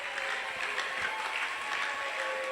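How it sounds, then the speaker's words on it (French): Applause and cheers from a church audience, a steady wash of clapping at moderate distance while groups return to their seats, with no clear speech over it. "On encourage les groupes par des acclamations alors qu'ils sont en train de regagner leur place."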